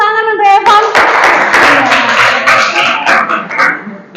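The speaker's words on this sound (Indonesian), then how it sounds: "Tepuk tangan untuk Evan." Schoolchildren in an Indonesian-language poetry class clap their hands together in a brief, busy burst of applause right after a short voice, the claps fading out toward the end.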